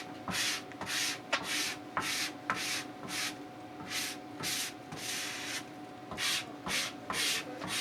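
A cork is rubbed back and forth over grip wax on a cross-country ski, making a rhythmic series of close, scratchy, brushing strokes, roughly one or two per second, alone without speech.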